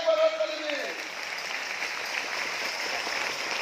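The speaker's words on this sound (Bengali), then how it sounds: "যিশু বাবার জন্য জোরে একবার হাততালি দিন" Congregation applauding in church after a call to clap for Jesus, a steady, dense wash of clapping that carries on throughout after a brief voice at the start.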